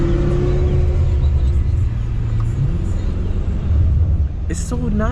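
A BMW M5 F90 in all-wheel drive with launch control, heard from inside the cabin as a deep, loud engine rumble and drone that shifts pitch partway through, with a brief voice near the end.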